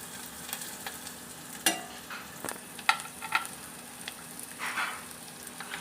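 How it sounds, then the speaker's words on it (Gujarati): Onions sauté in a pan for a masala sandwich, with a soft steady sizzle broken by sharp, irregular clinks and scrapes of a stirring spoon, close and fairly quiet, with no talking. "આપણે ડુંગળી એડ કરી છે. હવે આને થોડીક વાર સતડાવા દેવાની છે."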